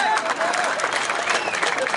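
A crowd clapping at an outdoor political rally in Aurangabad, with dense, steady applause running throughout and voices blending into the noise.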